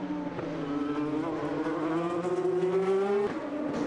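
IndyCar race cars on the Houston Grand Prix street circuit accelerate loudly under a full course caution, a single engine note rising steadily in pitch as it revs up, then cutting off with a brief gear change near the end.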